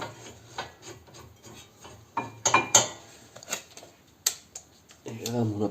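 Two bolts being fitted into the brake caliper bracket of a 2018 Peugeot 5008, a run of close metallic taps, clicks and scraping rasps as the parts are handled, with brief talk in between.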